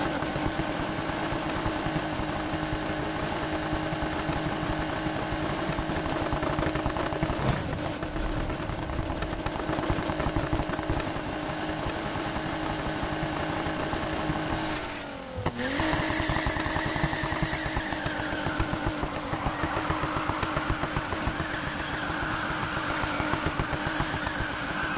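A racing game car engine with nitrous boost drones steadily at high revs the whole way through, loud and continuous, with a brief dip in the middle before it climbs again. No one speaks.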